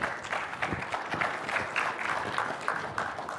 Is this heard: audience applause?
yes